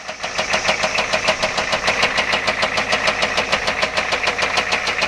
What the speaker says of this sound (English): 85 Ford F-250 diesel. You can hear that knock.